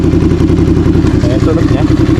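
Ducati Scrambler motorcycle engine idling close by after a push-button start, a steady loud low rumble with even pulsing throughout, with someone talking over it.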